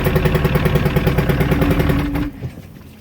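A Johnson 115 HP two-stroke outboard boat engine cranking over with a rapid, rhythmic chugging that lasts about two seconds, then stops and leaves a brief clatter.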